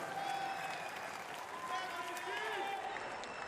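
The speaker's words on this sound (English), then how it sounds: "Round of applause." A crowd applauds at a military powerlifting competition, with broadband clapping under faint voices and a distant crowd murmur, fairly quiet throughout.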